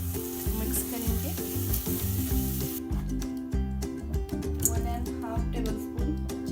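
Curd being stirred into a hot pan for paneer palak sizzles steadily and loudly throughout, with scraping stir strokes over the frying hiss and background music.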